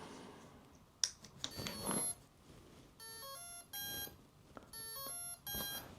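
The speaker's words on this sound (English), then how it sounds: "it should be music tone 1 beep if I've got that on full throttle" Two sets of quick electronic beep tones from an RC truck's speed controller during programming, each a short rising melodic sequence, play quietly after some handling clicks and rustling.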